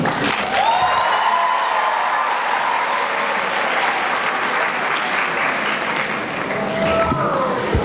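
A graduation audience at Higher Ground Academy's 2015 ceremony bursts into sustained applause, a dense, loud wash of clapping from a full hall that carries on steadily with no break.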